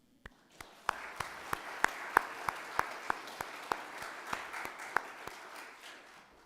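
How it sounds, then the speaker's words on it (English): Sparse, rhythmic claps ring out at a church service, roughly evenly spaced over a soft murmur of further applause in the room, moderately faint. "a round of applause"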